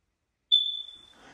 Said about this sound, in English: Where is the smoke alarm?